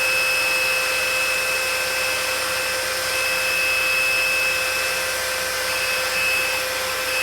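A heat tool blasts hot air to melt embossing powder, giving a loud, constant whooshing drone with a thin high whine that holds steady from start to finish, close up, with no talk.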